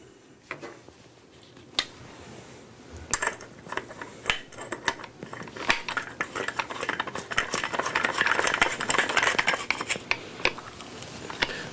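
A cutting wheel being fitted onto an angle grinder over its large back flange, giving close, irregular metallic clicks, taps and scraping handling noises that grow busier toward the end.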